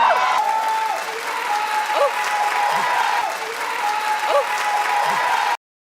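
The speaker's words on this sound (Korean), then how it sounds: "그들의 모습을 본 관객들은 크게 환호를 했죠" A studio audience cheers and applauds after a soju bomb drink is made by slamming the table, sustained loud clapping with whoops and voices throughout.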